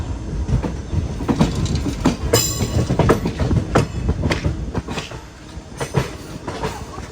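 The Ernad Express runs through the Ernakulam area, its carriages giving a continuous rumble punctuated by sharp, repeated clacks of wheels over rail joints, with a brief screech early on.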